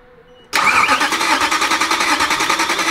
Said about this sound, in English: We're just trying to get a few cranks going.